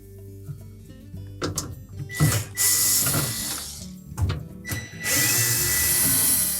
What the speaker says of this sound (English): we're next going to remove these 4 retaining screws that secure that evaporator cover